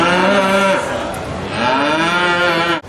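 Cattle in the pavilion at the Sydney Royal Easter Show give two long, loud, close moos, one after the other, with a hum of the show behind them.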